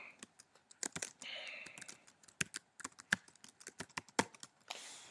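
Rapid, irregular keystrokes on a computer keyboard, close and crisp, with clustered clicks and short pauses, and no voices.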